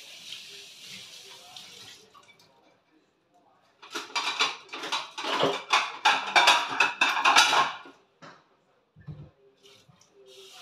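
Dishes, pots and cutlery clatter at a kitchen sink under running tap water while a simple home dinner is made. Quiet opening, then several seconds of busy, continuous clinking and splashing before it drops away, with brief soft knocks afterward.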